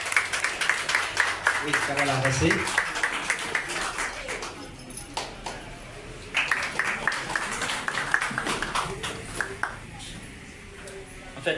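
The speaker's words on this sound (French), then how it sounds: "nous applaudir pour nous, s'il vous plaît" An audience at a hospital building inauguration in Saint-Marc breaks into scattered clapping and applause mixed with chatter, under someone speaking into a microphone.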